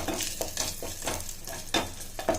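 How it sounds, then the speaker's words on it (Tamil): Grated coconut roasts in ghee, a continuous close sizzle broken by a steady rhythm of spatula scrapes and stirs against the pan, no voices present. "இப்போ தேங்காவை நல்லா பொன்னிறமாக வறுத்துக்கோங்க ஃப்ரெண்ட்ஸ்."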